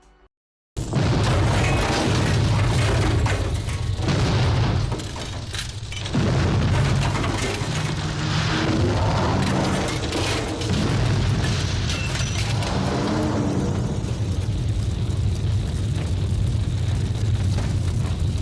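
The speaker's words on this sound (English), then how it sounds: "The explosions rip through the project, seemingly taking everyone with it." Explosions tear through a bunker in the 1987 film Terminus, a sustained roaring blast with deep rumbling booms, debris bursts and crackling that barely let up for nearly twenty seconds, loud and close.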